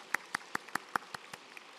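A church congregation claps in a slow, even rhythm, about eight sharp hand claps spaced evenly and fading slightly toward the end, with no talking over them.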